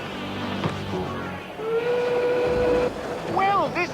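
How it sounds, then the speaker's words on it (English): A train on a station platform, bound for Edinburgh and Inverness, departs: a long whistle sounds over rumbling rail noise, followed by a shorter wavering whistle blast near the end, all under a dense, busy mix. "The train on platform 4 is bound for Edinburgh and Inverness."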